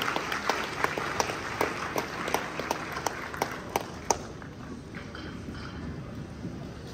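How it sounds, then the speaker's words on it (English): Applause from an audience at a function in a jubilee hall, scattered claps thinning out and fading after about four seconds into a quieter room. "Another big round of applause for the chairman"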